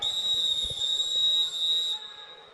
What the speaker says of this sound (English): Very loud whistle right there.